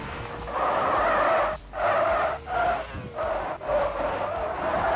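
A six-wheel rock crawler in a video game oversteers and skids, its tires squealing in several long, loud screeches with brief breaks, over a steady engine rumble. No one speaks.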